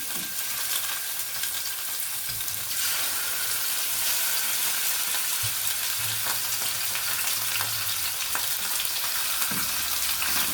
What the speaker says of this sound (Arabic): هنبدا بقى نضيف اللحمه وكله هيتشوح مع بعض